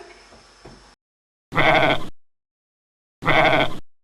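Two loud, drawn-out bleats separated by silence, following a quieter burst at the start; voices imitating sheep, close and clear.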